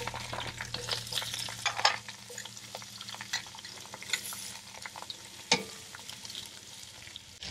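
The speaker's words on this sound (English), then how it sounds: "I'm going to layer the bottom of the Dutch oven with my onions" Onions sizzling and frying in a Dutch oven alongside browned tri-tip, a steady crackling sizzle with occasional stirring clinks and sharper pops, close and moderately loud, no speech.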